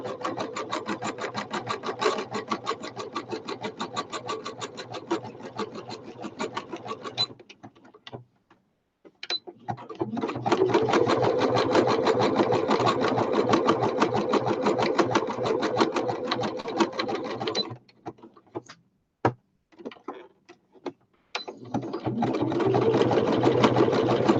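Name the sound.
sewing machine stitching a cover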